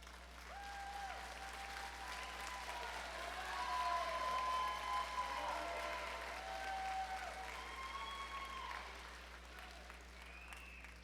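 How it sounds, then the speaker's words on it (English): Sustained crowd applause at a New River CTC graduation ceremony for the graduates' supporters, continuous and moderately distant, swelling in the middle with faint cheers and a few whistle-like tones over a low steady hum. "round of applause."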